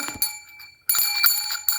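Small Christmas ornament bells jingle in two clear bursts of bright metallic ringing, each fading before the second shake, close and with no voices.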